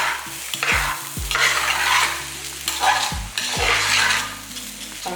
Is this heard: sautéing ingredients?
yes